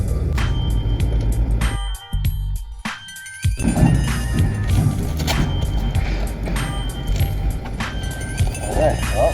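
Clanks, thumps and metallic knocks from taking a wheel and tire off a 2020 Toyota RAV4, heard close over steady mechanical background noise, with one brief quiet gap partway through.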